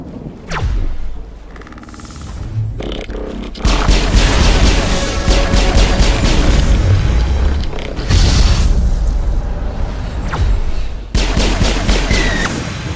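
Gunfire and explosions crackle and boom in a crossfire from the video game Mass Effect. Loud blasts and rapid shots run dense and continuous after a brief quieter opening, with no talk.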